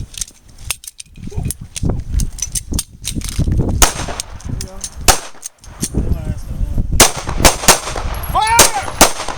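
Pistol shots ring out at a self-defense shooting practice, a rapid, irregular string of sharp, loud cracks echoing close by, with voices calling out between the volleys.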